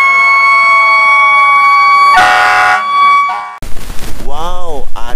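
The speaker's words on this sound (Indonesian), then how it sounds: "Wow, ada lagi teman-teman, mobil truk pemadam kebakaran atau fire truck." A fire truck siren wails loudly and steadily for several seconds, followed by a brief burst of noise and then a rising and falling siren sweep near the end.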